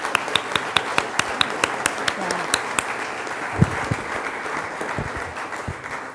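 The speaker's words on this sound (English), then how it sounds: "One more round of applause because they were amazing." An audience at an annual charity event claps in a sustained round of applause, sharp individual claps standing out near the start before the sound thins into a softer, scattered patter.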